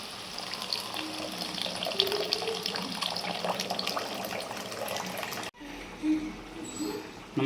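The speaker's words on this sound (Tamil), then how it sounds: "புளித்தண்ணி சேர்க்குறோம்." Tamarind water being poured into a simmering dried fish curry gives a steady liquid gush that runs for several seconds, then cuts off abruptly and is followed by softer bubbling and stirring.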